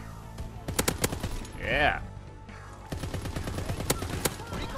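LAD machine gun firing in the video game Call of Duty WW2: rapid, close, sharp bursts of automatic fire, a brief pause around the middle, then sustained shooting while someone speaks briefly.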